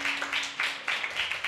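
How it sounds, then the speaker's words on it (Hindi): A church youth congregation clapping hands together in a steady rhythmic beat, a run of sharp, fairly close claps repeating about every few tenths of a second. "ताली बजाएंगे एक बार"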